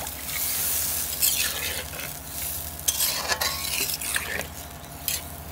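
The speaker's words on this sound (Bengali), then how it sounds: "এই যে ঝোলটা দিলাম, কষাই নিচ্ছি," Fish curry with vegetable gravy stirred in a pan over a village cooking fire: loud continuous sizzling with scraping spoon strokes and occasional clinks against the metal pan, close up and without voices.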